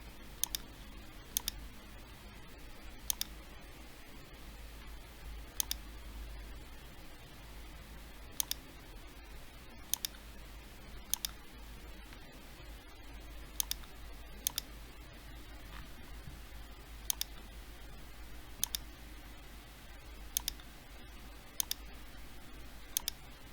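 Answers are typed on a computer keyboard in sparse, isolated clicks spaced a second or two apart, quiet against a low room hum.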